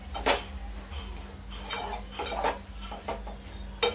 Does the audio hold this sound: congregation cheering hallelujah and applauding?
no